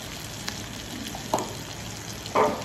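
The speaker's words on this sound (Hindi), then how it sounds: "बस इसी तरीके से कबाब बाकी भी फ्राई कर लेंगे।" Chutney kebabs frying in a pan, a soft steady sizzle with a couple of sharper crackling flare-ups, close by and with no talking.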